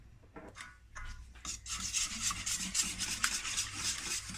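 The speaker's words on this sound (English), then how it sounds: "I've tried to mix it as much as I can, but as you can see, there's still some lumps there" Leche flan mixture with caramel sauce is stirred and scraped in a bowl, giving a steady rubbing, rasping sound that grows busier and louder after the first second and continues without talk.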